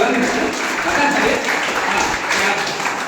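An audience at an evening poetry gathering in Machhlishahar, honoring a poet with garlands, gives sustained clapping, fairly loud and continuous, mixed with murmuring voices.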